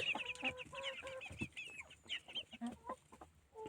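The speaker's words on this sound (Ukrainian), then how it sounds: "Ось скільки курей, а щоб не одного яйця не було." A flock of chickens clucks and chatters continuously, many overlapping short calls at moderate distance, busy and uneven in rhythm.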